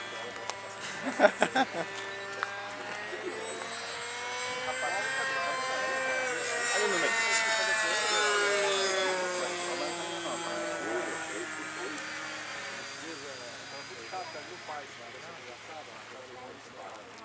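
An electric model airplane flies over an airfield runway in Piraju, São Paulo, its thin motor whine rising and falling as it passes, with people talking loudly nearby throughout.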